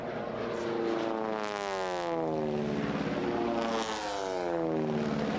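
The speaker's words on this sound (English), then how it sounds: "we're going to let our fans listen in to these wonderful radial engines coming over the top here momentarily" Radial-engined T-6 racing aircraft pass overhead at the National Championship Air Races in Roswell, New Mexico, a loud droning propeller roar with pitch sweeping down as each plane goes by, two passes heard back to back without talk.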